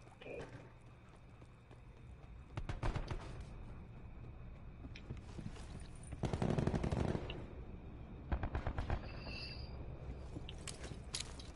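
Gunfire in a PS4 video game, rapid automatic bursts and scattered shots in several clusters over a continuous game soundscape, moderately loud.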